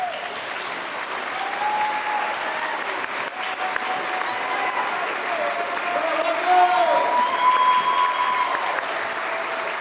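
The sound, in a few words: applause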